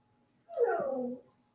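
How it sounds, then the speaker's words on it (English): A single short, faint whimper from a dog wanting to be let outside, a brief rising-then-falling whine of about half a second, heard alone in an otherwise quiet indoor room. "I probably got to go let my dog out."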